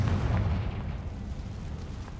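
The Confringo blasting spell exploding in Hogwarts Legacy: a single deep, rumbling boom that swells at once and then fades off slowly, with no voices.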